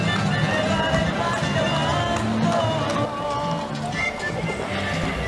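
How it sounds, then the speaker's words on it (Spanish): Horses in Punta Arenas, a busy clatter of hooves with snorts and neighs over crowd murmur, loud and continuous. "hay tanto caballo que yo creo que vamos a seguir viendo eso"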